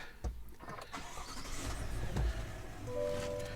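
A 2021 GMC Yukon, Denali or AT4 trim, starting up: a short cranking burst settles into a steady idle rumble, with a faint chime sounding near the end.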